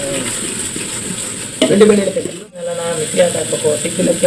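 Onions roast in a pan for chicken sambar with a steady, loud sizzle, broken by stirring scrapes and a brief dip before the frying hiss resumes.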